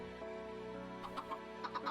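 Minecraft chickens clucking in a crowded modded chicken pen, several short clucks bursting over a steady buzzing game background in the second half of the moment.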